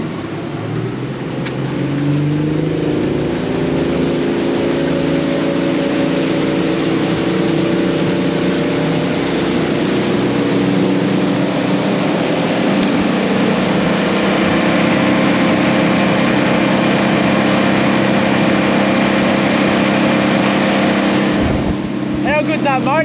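A fishing boat's outboard motor runs steadily and loud from start to finish on a whiting trip in Westernport, a constant droning hum with faint voices underneath.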